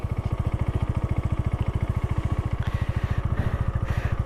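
A Honda Valkyrie motorcycle engine putters at low revs while being eased forward under clutch control, with a strong, even pulsing beat that stays close and steady throughout.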